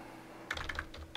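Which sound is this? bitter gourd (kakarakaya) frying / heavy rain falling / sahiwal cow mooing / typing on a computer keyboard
typing on a computer keyboard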